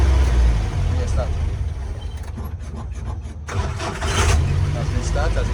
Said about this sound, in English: Engine has been started.